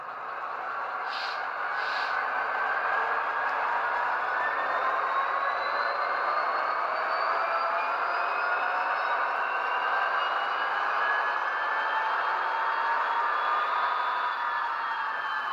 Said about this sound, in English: It basically does a grade crossing and the Doppler pass by.